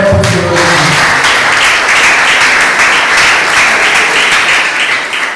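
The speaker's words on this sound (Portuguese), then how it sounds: "Receba o nosso palmas de vitória para o Senhor." Church congregation applauds in praise of the Lord, a loud, sustained wash of clapping that holds steady throughout, with brief voices at the very start.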